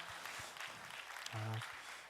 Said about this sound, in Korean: 큰 박수로 격려해 주시면 감사하겠습니다.